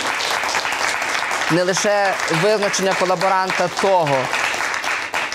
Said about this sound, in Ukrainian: я через оплески ніколи не можу говорити